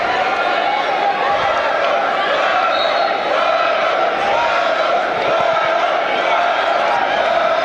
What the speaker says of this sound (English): Justin Weber has a cheering section over here next to us